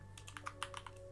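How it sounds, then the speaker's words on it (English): Quick computer keyboard typing, about ten crisp keystrokes in a fast irregular run, close and clear over a low steady hum. "I'm so bad at typing right now."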